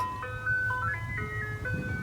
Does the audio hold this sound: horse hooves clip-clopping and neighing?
no